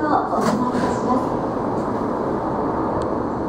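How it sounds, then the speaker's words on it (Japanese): A Meitetsu 1700 series electric train rumbles steadily at close range, a continuous low mechanical roar with faint higher squeals, as it pulls away. "電車が発車します。"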